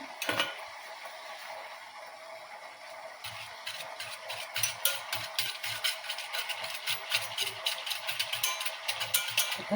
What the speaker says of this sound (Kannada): ಈಗ ಇದನ್ನು ಚೆನ್ನಾಗಿ ಮಿಕ್ಸ್ ಮಾಡ್ತೀನಿ ನೋಡ್ರಿ